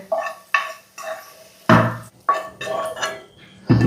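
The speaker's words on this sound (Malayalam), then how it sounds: "ഒന്ന് ചെരിച്ച് പിടിച്ച് വെളിച്ചെണ്ണ ഇല്ലാതെ നമുക്കിതാ ഒരു പ്ലേറ്റിലേക്ക് ഇട്ട് കൊടുക്കാം" Cooked okra slides off a tilted pan onto a plate in a home kitchen, giving several clattering knocks of metal and crockery spread over a few seconds, close and fairly loud, with no voices.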